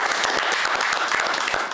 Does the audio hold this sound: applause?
yes